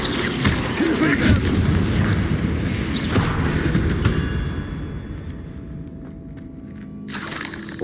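A Confringo explosion spell blasts in a video game with a loud booming rumble that fades away over several seconds, a low resonant tail lingering near the end.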